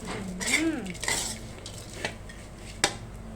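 Chili paste stir-fried with pork cracklings in a pan: a metal spatula scrapes and clinks against the pan, with a soft sizzle and a few sharp taps, close and fairly loud, and no voices.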